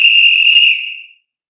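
A handheld whistle blown in one steady, loud, shrill blast lasting about a second, then cut off into silence, with no talking.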